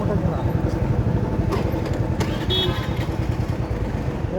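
A motorcycle engine idles steadily and continuously at a roadside traffic checkpoint in Karnataka, with a low rumbling drone running throughout beneath people talking nearby.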